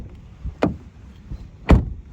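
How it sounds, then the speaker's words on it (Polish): A BYD Atto 2 door shuts twice, each a short, solid thump with a muffled, damped closing sound, separated by about a second of quiet. "dźwięk zamykanych drzwi jest całkiem przyjemny"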